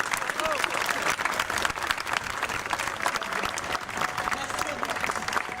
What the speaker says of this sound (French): je vous suggère de lui faire un tonnerre d'applaudissements